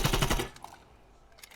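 Rapid automatic gunfire from Call of Duty: Black Ops Cold War rattles out in a loud, dense burst of shots for about half a second, then drops to a quiet background with a few faint clicks.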